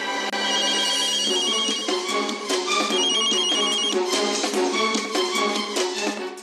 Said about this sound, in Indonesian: Telepon dari rumah Saloni.